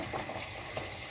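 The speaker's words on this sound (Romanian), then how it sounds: "Vedeți, le băgăm așa în ulei." Doughnuts frying in hot oil give a steady, dense sizzle and crackle, close and even throughout, with no voices.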